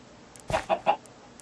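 Chicken clucking in a modded Minecraft game, three quick close clucks in a short burst, the first loudest, over a quiet background.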